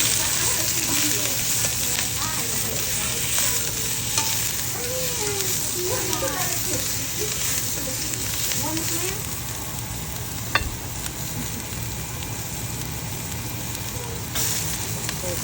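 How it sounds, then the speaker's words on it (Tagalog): Ingredients sautéing in a little oil in a pan, a close, continuous sizzle with occasional stirring clatter while a person talks over it. "At igisa na natin siya."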